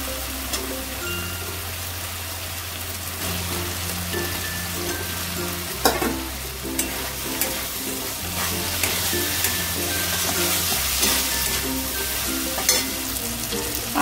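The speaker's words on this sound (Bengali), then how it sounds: "আলুগুলো না মশলার মধ্যে একটুখানি নাড়াচাড়া করে" Potato pieces being stir-fried in a spice masala for a vegetarian lentil-dumpling curry, with a continuous crackling sizzle and frequent scrapes and clinks of the spatula against the pan over a steady low hum, with no voices.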